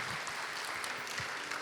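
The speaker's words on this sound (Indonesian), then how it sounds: "Berikan tepuk tangan buat Tuhan Yesus" A church congregation applauding during a worship service, with a dense, even wash of clapping from many hands and a few louder claps standing out.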